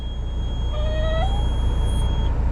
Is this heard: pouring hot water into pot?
no